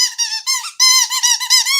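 A squeaky toy squeaks close and loud in a quick, uneven series of high, piercing squeals with short gaps.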